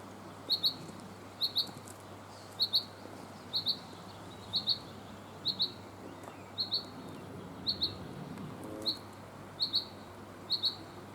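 Alarmed birds calling during a spring nesting walk, faint paired high chirps repeating at a steady rhythm about once a second over quiet outdoor background.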